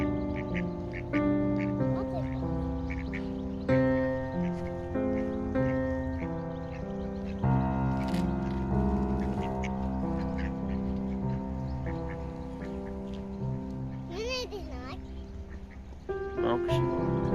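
Ducks being fed by hand in Sweden quack repeatedly in a lively, overlapping chorus up close, while people talk and coax the birds throughout.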